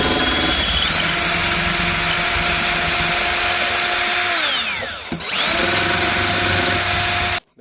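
A power drill boring a small pilot hole into the middle of a countersunk magnet for a drawer catch in a 2022 Rockwood Mini Lite 2509S travel trailer, a loud steady whine that spins down, briefly restarts and then cuts off.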